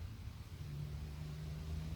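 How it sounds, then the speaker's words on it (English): Car idling with its engine running and lights on nearby at night, a low steady rumble holding faintly in the background without speech. "but they've still got their engines on, the lights on"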